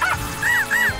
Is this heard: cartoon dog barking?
yes